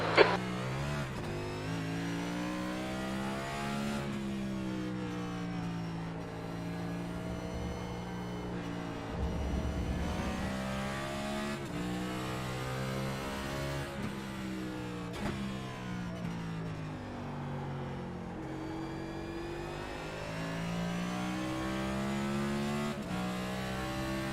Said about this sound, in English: Take care, there's a car approaching.